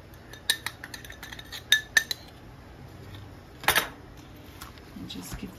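Salt, complete seasoning, cumin, turmeric and adobo are mixed into goat meat in a bowl for curry, heard as a few sharp clinks and scrapes of a utensil against the bowl with a louder scraping burst near the end.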